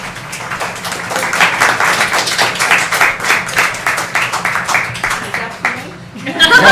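Audience clapping at a board meeting, a steady patter of many hands that carries on with talk and chatter underneath, then swells again near the end.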